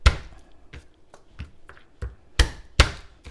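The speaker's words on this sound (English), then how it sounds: "with the cloves of garlic, we just need to bash them with the back of the knife" Garlic cloves bashed with the back of a kitchen knife while preparing Chinese braised pork ribs: a string of sharp, close thunks on a board, irregularly spaced, with the last two blows the heaviest, and no talking.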